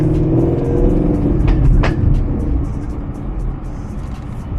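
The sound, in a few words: V8 engine revving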